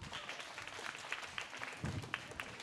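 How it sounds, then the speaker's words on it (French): A small audience claps along at a children's show, faint scattered clapping with uneven individual hand claps standing out from a soft background. "On applaudit bien fort les amis."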